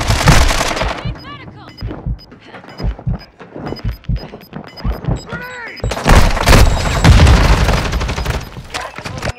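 Explosions and heavy gunfire in Warzone 2 combat, several sharp loud booms and bursts with a big blast near the end, while players talk and shout over the action.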